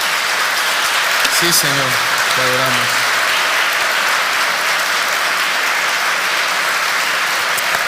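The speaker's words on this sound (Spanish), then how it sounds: "Denle un fuerte aplauso al Señor" A church congregation breaks into loud, dense applause that holds steady throughout, with a few sung or spoken words from a voice near the start.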